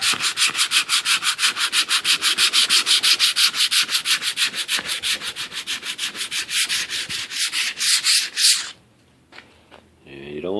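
Old 80-grit sandpaper rubs back and forth along the grain of a wooden US flag gun cabinet being distressed, a steady fast rhythm of close, loud scratchy strokes that stops near the end, leaving brief quiet handling noise.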